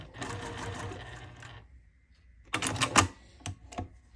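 A sewing machine stitches a quarter-inch seam on a scrap quilt-as-you-go block, giving two short, close bursts of rapid clatter separated by a brief quiet gap.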